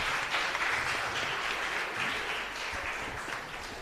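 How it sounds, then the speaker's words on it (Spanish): A church congregation applauds during a Mass, a steady, dense wash of clapping from many hands that fills the space throughout and eases off slightly toward the end. "Un fuerte aplauso."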